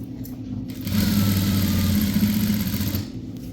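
A sewing machine runs in one steady motorized burst, stitching a folded fabric loop for a box-pleated school uniform skirt; brief quiet handling before and after, no talk.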